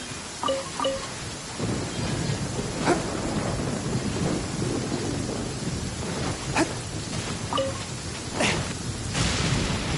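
Thunder in the video game Genshin Impact, a deep rolling rumble over steady rain, with sharp cracks and bright chime-like effects popping in between, continuous and fairly loud with no talking.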